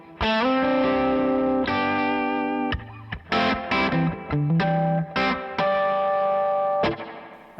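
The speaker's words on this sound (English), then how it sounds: "So I keep like a decent spring reverb" An electric guitar is played through an amp with spring reverb, with sustained distorted chords and notes followed by a few choppy strums, each ringing out with a reverb tail, loud and close.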